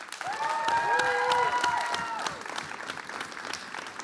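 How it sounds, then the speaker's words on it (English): An audience at a spring 2025 impact challenge event claps loudly for about two seconds, with a few whoops rising above it, then the applause gradually thins and fades out. "So let's give him a big round of applause."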